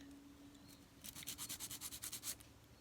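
A nail file rasps back and forth across a fingernail's free edge during a dip powder manicure, giving about a dozen quick, close, rhythmic scratchy strokes after a quiet start.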